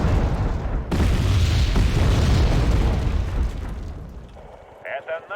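Bombing explosions in the war game Wargame: Red Dragon form a loud, sustained rumbling blast that fades toward the end, with voices talking underneath.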